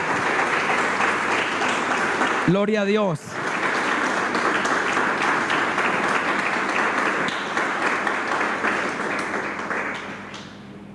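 Congregation at a Sunday church service applauding, a long and steady wash of clapping that fades slightly toward the end, with a voice briefly calling out praise over it.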